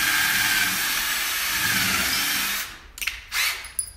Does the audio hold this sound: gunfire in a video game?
no